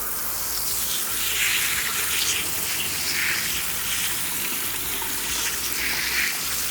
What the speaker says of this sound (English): we're going to run some more water